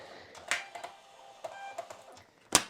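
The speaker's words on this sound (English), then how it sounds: "Because I have it set up to my Rollo printer, it's going to generate a label, and then we're going to print it." A Rollo thermal label printer runs off a shipping label with a few soft mechanical clicks and feed whirs, ending in a sharper burst as the label finishes, heard up close in a quiet room.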